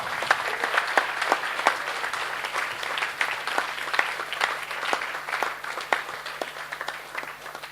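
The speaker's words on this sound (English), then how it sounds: "One big round of applause for all of them." Sustained crowd applause at a Govardhan Puja festival drama by Hare Krishna devotees, dense steady clapping filling the whole stretch at moderate loudness with no talk.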